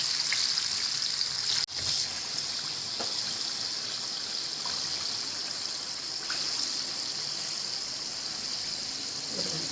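Chicken fries in hot oil until crispy, making a continuous fine hiss and crackle. A few louder pops and a sharp clack near the start break through the steady sizzle.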